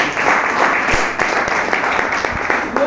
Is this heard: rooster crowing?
no